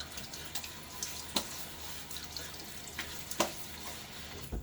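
Cool tap water runs steadily into a bathroom sink while a face is wetted before a shave, a soft continuous hiss broken by a few splashes, with no talking.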